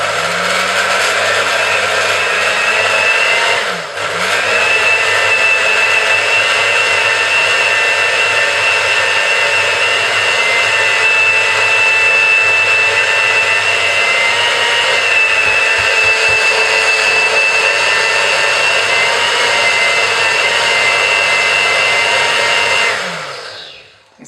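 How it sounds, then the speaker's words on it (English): A blender runs continuously for about twenty seconds, whirring loud and steady as it blends oil with wild garlic, its motor pitch dipping briefly near the start before running on evenly and stopping at the end. "It's just going to start mixing and blending that next"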